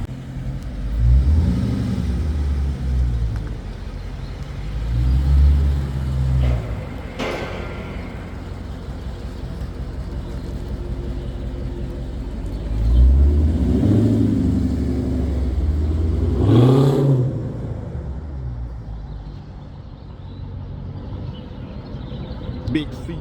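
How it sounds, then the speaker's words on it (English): A Chrysler 300C, one of 2200 made, drives downtown with a steady low engine rumble that swells now and then as it accelerates. Someone talks throughout. "Gonna give y'all some driving footage when it's driving"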